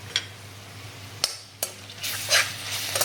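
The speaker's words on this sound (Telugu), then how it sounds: "దీంట్లో అల్లం వెల్లుల్లి పేస్ట్ కూడా వేస్తున్నాను" Ginger garlic paste dropped into a hot pan sizzles and crackles softly, broken by a few sharp clinks of a utensil against the pan.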